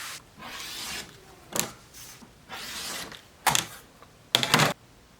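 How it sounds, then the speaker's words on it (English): Cutting out a printed sublimation sheet by hand, several soft rasping scissor or paper-rub strokes at close range, separated by short pauses and ending with a few sharper crisp snips. "I'm gonna go ahead and cut this one out now."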